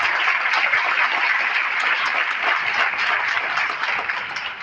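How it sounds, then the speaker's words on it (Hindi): A large audience at a felicitation ceremony in a community hall claps steadily and loudly, a dense, continuous wash of applause throughout. "इसलिए जोरदार ताली बजाता हूं।"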